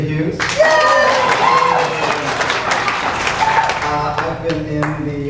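An audience at an evening history presentation claps together for several seconds, a dense spread of hand claps with some scattered voices and whoops mixed in.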